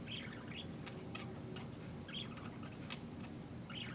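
Pet parakeets in a covered cage give faint, quick bursts of high chirps at irregular intervals over a quiet room hum.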